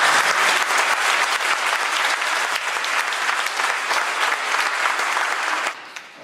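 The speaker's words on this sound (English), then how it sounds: "We can applaud for that." A crowd at an awards event applauds a 30-year Laborers Union Local 271 member, a dense, steady wash of clapping that holds for about six seconds and then drops away abruptly.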